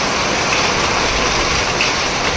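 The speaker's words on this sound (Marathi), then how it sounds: "पाऊस थांबायला मागत नाही मुसळधार पाऊस पडतोय" Heavy rain pours down in a steady, dense hiss without pause, loud and close, with no voices.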